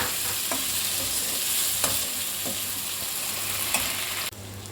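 Tomato stirred into onion and garlic frying in a pan for Chettinad garlic kuzhambu: a steady, loud sizzle with a few soft scraping stirs, and the sizzle drops abruptly near the end.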